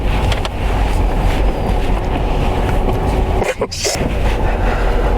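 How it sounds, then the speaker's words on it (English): Strong storm wind from Storm Eunice in Cornwall roars and buffets continuously, a loud, dense rumble with a brief gust-like dip near the end. "When I try and use my windscreen wash, the wind's that strong, it just blows it off."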